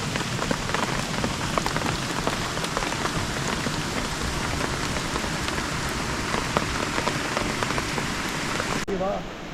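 Steady rain falling on surfaces at dawn, a dense, continuous patter close by that fills the whole stretch without pause.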